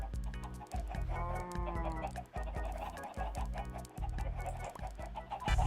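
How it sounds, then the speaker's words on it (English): Video game chickens cluck and squawk over a busy game soundtrack, steady and close, with repeated low thumps and brief pauses throughout. "why are there so much chickens roaming outside?"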